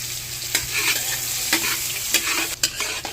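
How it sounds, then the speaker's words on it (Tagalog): Onions sauté in a hot pan for mixed vegetables, a continuous loud sizzle with regular scraping stirs of a spatula punctuating it every half second or so. "Gisa-gisa, gisain mabuti"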